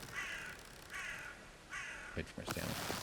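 Three harsh, evenly spaced crow caws ring out in the game Valheim, each loud and distinct, followed by a short burst of clattering thuds.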